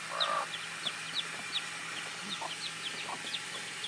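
A Gilmore brood hen clucks softly and low among her chicks on a farm, while the chicks keep up a steady run of high, repeated peeps over a faint background hum.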